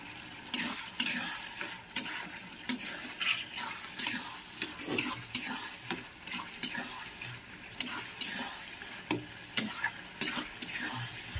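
Food sizzles in a pan while a utensil scrapes and stirs in repeated, irregular strokes, close and continuous, as bitter gourd flowers fry with potatoes.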